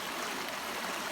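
A small woodland stream, the Little Isabella River in Minnesota's Northwoods, flows in a steady, soft hiss of running water that stays even and unbroken.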